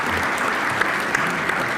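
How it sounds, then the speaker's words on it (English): A room full of people applauds at an investment firm's annual gathering, a steady, dense wash of clapping that holds evenly for the whole stretch with a few sharper claps standing out. "And a round of applause."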